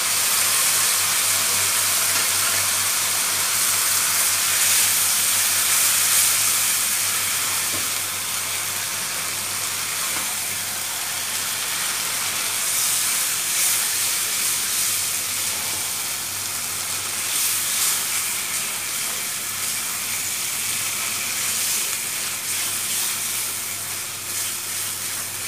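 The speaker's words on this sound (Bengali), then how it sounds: "আমার মশলা কষানো হয়ে গেছে, এর ভিতরে আমরা চামড়াগুলো দিয়ে দিব।" Chicken skin from a desi hen sizzles and hisses in cooked-down spice paste, a steady frying noise that holds for the whole stretch with no talking over it.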